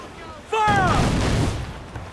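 Ship cannon fire in the video game Assassin's Creed 4: Black Flag: a loud booming broadside erupts abruptly and rumbles on for over a second, preceded by a shouted command.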